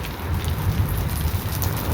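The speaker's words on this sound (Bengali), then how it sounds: "আবার বেশি করে বৃষ্টি আসলো জোরে" Heavy rain pours down steadily outside during home cooking, a dense, even hiss of drops on surfaces that lasts the whole stretch with no voices.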